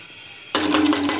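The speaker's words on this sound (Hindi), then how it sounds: "अब मैं इसमें पानी डाल दूंगी।" Water poured into a cooking pot for vegetable pulao, a sudden loud rushing splash starting midway and continuing steadily, close by, with no voices.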